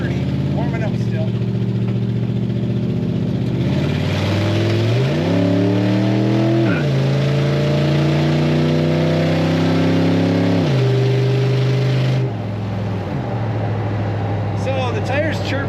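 A 1936 Ford Model 68 Deluxe street rod accelerates hard, its engine climbing in pitch through gears with sharp drops at each shift and tire chirps, loud and close, then settling to a steadier drone.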